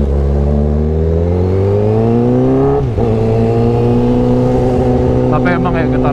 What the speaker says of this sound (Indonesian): getaran 1000cc tuh, apalagi khususnya CBR 1000 tuh bener-bener menggelegar banget sih suaranya nih.